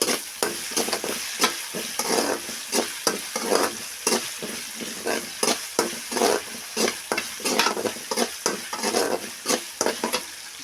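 Curry leaves frying in a pan for egg pasta, a strong crackling sizzle broken by rhythmic, repeated stirring scrapes that come in close, loud pulses throughout.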